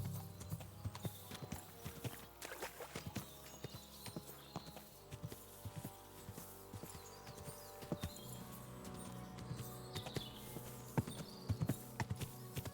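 Horse hooves clip-clopping steadily on the ground in Kingdom Come: Deliverance II, a close, continuous rhythm of hoof strikes over a faint music bed.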